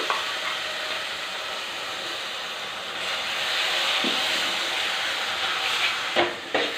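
Ground masala with turmeric, dried red chillies and whole spices frying in a pan for a potato, eggplant and drumstick curry, giving a steady close sizzle and hiss with faint scraping from stirring, and no voices.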